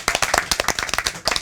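A small audience at a book-discussion meeting claps for a reporter, a short, close burst of distinct, fairly rhythmic hand claps.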